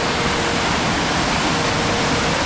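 Glacial lake outburst floodwater in a Sikkim river near the Rampu bridge roars as a loud, steady, unbroken rush of water.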